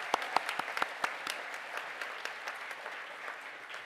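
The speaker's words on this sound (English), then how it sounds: "Please stand for a very well-earned round of applause." Graduation ceremony applause for a Higher Diploma in Science and Software Development class: a few sharp, close claps open, then a quieter, thinning patter of an audience clapping across the hall.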